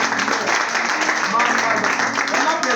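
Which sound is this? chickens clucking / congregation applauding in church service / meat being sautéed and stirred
congregation applauding in church service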